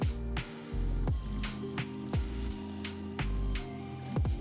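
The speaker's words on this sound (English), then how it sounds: "and then I just add water" Water is added to a turmeric flour dough mix, with soft drips and wet squishy sounds, close and fairly quiet, over a low kitchen hum.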